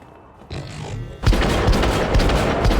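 Gunfire in the video game Syndicate erupts loudly after a quieter opening, a dense burst of shots and booms continuing to the end without talk.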